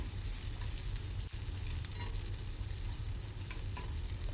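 Urad dal with chilies, garlic and onion sizzles in a hot pan while being stirred, a steady crackling fry running throughout with a sharp spoon scrape near the start and occasional clinks, no voices.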